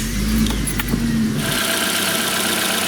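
A Geely MK car engine with newly fitted ignition wires cranks and catches, then settles into a steady, even idle up close.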